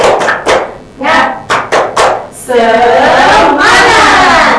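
A classroom of students does a rhythmic clapping cheer, a few sharp claps followed by a chanted chorus of young voices carrying on to the end, loud and close.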